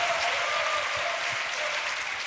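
A church congregation applauding warmly to encourage people standing before them, a steady even wash of many hands clapping at moderate distance, with no speech over it.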